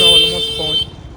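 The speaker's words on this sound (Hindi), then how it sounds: "यहाँ पे लोग कितने हॉर्न मारते हैं" A steady, shrill horn-like tone blares for most of a second over street noise and a voice, then cuts off.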